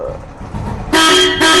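A loud, close Roots Megasonic car horn fitted on a motorcycle sounds in two blasts, the first longer, after a moment of quiet engine rumble.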